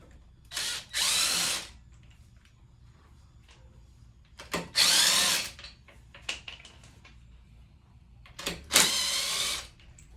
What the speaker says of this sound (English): once I loosen the nuts up, I'll speed it up with my little impact wrench.